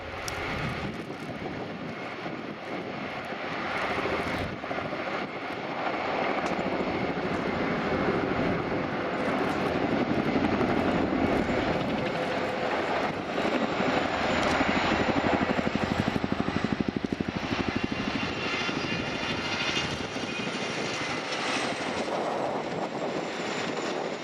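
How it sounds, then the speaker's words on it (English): A Boeing Chinook helicopter flies display manoeuvres at an air show, its rotor and engine roar rising and swelling over about twenty seconds, loud and continuous with no talking. "Despite its heavy lift capacity, the Chinook offers impressive manoeuvrability, as you're about to see, as Luke takes the aircraft in"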